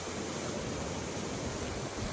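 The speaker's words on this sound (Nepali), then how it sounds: "पहाड चिरेर बगेको खोला देख्न सकिँदो रहेछ।" A mountain stream near Shree Kharka on the Tilicho trek in Upper Manang, cutting through the hills, rushing as a constant broadband roar with no voices.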